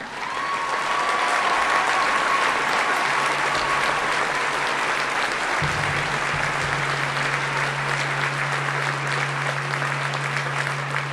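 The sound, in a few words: audience applause at a high school graduation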